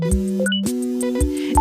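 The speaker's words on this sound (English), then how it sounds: "That's the sound of the alarm clock watching you sleep." An interactive alarm clock that reacts to movement in bed gives electronic beeps and synthetic tones in a stepped, bleeping pattern, like a gadget chirping and scanning, with short pulses at irregular intervals.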